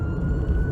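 A police car siren wails steadily at close range over road noise, heard from inside a vehicle for a brief moment.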